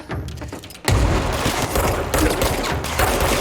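Gunfire and a grenade blast in the video game Control, with sporadic shots at first, then a heavy close boom and continuous loud rattling fire.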